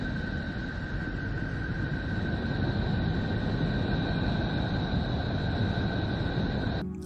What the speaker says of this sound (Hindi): यह नेपच्यून की आवाज है।